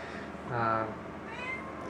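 A cat meows once clearly at close range, then gives a softer, shorter second meow a moment later, heard over quiet indoor room tone with no talking.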